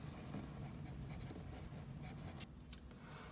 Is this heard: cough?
no